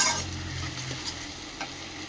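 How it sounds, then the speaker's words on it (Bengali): Onion, cumin, ginger, garlic and chili paste frying in a pan for mutton biryani, a soft steady sizzle with a few light stirring scrapes and no talk. "এবার সেই পেঁয়াজ, জিরা, আদা, রসুন, লঙ্কা পেস্টটা দিয়ে দিলাম, দিয়ে এটা ভালো করে এবার মশলাটা কষাবো"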